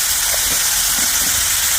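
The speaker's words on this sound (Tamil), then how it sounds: "தக்காளி வதக்கிறதுக்கு எண்ணெய் சேர்த்து இப்போ தக்காளி சேர்த்துக்கலாம்" Tomatoes sauté in hot oil for a curry leaf chutney, giving a loud, steady, close-up hissing sizzle that continues without a break.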